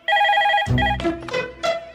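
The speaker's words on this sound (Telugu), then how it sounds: "రింగ్ అవుతుందిరా" A telephone rings with repeated electronic tones, then the ringing is overlapped by a lower burst of sound before a final ring near the end.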